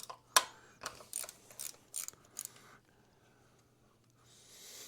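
Wrench ratcheting on engine valve cover bolts, several short clicking bursts close by, quiet, followed by near silence and a faint hiss.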